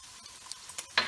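Butter hitting a hot pan for potato leek soup with bacon, giving faint, scattered sizzles and a brief sharper hiss at the end, with no talking.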